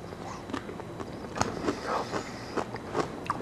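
Crunchy bites and chewing of a chip loaded with homemade avocado dip, close and fairly quiet, repeating in short crackly bursts with no talk.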